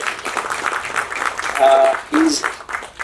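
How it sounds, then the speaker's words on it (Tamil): An audience at a film press meet claps in a brief burst of applause while a voice talks over it, with a couple of short whistles. "செல்வம் எங்கே இருக்காரு, எந்திரிங்க, அவருக்கு ஒரு கைத்தட்டி எனக்காக."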